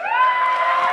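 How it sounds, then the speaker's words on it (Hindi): A big crowd of children at a packed meet-up cheers and shouts together in one loud, brief, sustained burst of voices; individual claps are not clearly distinct. "तालियां बजा दीजिए"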